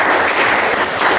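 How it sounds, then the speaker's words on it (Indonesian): Classroom students applauding group 3 after their presentation, a dense, steady burst of clapping filling the short moment at close range. "beri tepuk tangan untuk kelompok 3"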